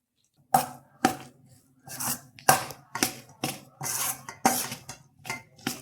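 Tamarind rice being mixed with a ladle in a vessel: about ten distinct scraping, mushy strokes in a fairly steady rhythm, close and moderately loud, with short quiet gaps between them.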